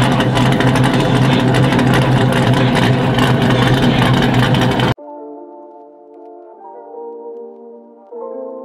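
An old car that sat unused since 2016 idles with a loud, steady engine rumble that cuts off abruptly, followed by quieter, irregular tonal sounds.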